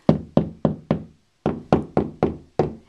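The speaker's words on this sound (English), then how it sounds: "you can just simply tap on the wall" Knuckles tapping on a drywall wall to locate studs: nine sharp knocks in two quick groups, four then five, separated by a short pause, close and fairly loud with no talking.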